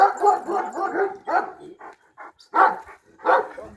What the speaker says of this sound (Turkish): Bunlar köpek kardeşim.